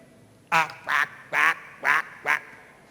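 Duck quacking, five loud, evenly spaced nasal quacks close up, heard alone without speech, accompanying a telling of the ugly duckling tale.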